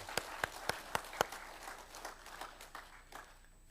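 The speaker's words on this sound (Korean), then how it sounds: "우리 박수로 한번 크게 격려해 주겠습니다" A church congregation claps briefly to encourage the choir. A few loud, distinct claps come first, then soft scattered clapping that fades quickly in a quiet hall.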